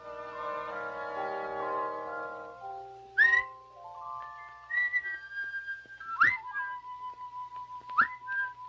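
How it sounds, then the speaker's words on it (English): A strange whistle in an old animated folk tale, heard alone with no voices: a long wavering note, then several short rising and sliding whistled calls spaced a few seconds apart, fairly close and clear. "That was a strange whistle."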